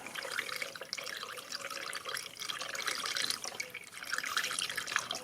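Coolant runs steadily from a Renault Twingo's cooling system during a drain, a continuous splashing trickle of liquid that stays fairly loud and even throughout, with no talk.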